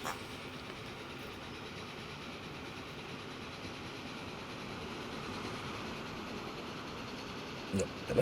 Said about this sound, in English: why is this gigantic freight train going through here?